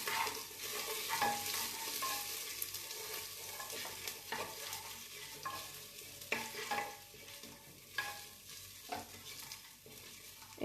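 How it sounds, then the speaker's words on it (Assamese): Spices sizzling in a pan with grated ginger and bay leaves, stirred steadily with repeated scrapes and taps of a spatula over a continuous close frying hiss, with no talking. "এতিয়া গোটেইখিনি ভালকৈ এনেকৈ ভাজি ল'ম"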